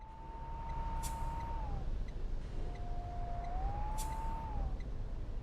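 Bus brakes in the OMSI 2 driving simulator give two long, steady squealing tones, the second one wavering in pitch, heard over a constant low engine and road rumble.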